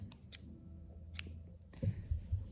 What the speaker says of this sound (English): we can actually cut the yarn